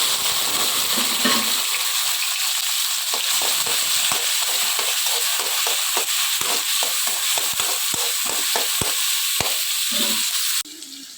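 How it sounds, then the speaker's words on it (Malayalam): Shallots and tomato sautéing in hot oil for a chicken curry in a village kitchen, a constant bright sizzle with rhythmic scraping strokes of a spatula stirring the pan, close and continuous. "അതിനകത്തേക്ക് ചെറിയുള്ളിയും തക്കാളി ചേർത്ത് വഴറ്റണം."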